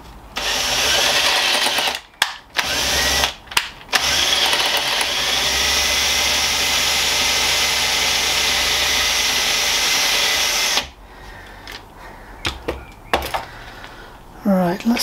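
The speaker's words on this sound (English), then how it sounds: "So I think we still need to drill that out and re-tap it." Power drill running steadily to drill out a broken bolt with a reverse drill bit during bicycle wheel work, a loud continuous whine broken by short pauses, then quieter handling noises and faint speech.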